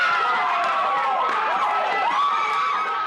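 A crowd cheering and shouting in reaction to a verdict, dense and continuous with excited voices rising and falling throughout.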